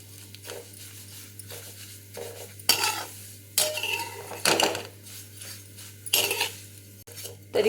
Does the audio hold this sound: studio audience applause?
no